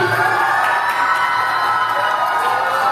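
A school audience at a medal and award ceremony cheers and shouts loudly and steadily for a prize winner, with dense crowd noise throughout.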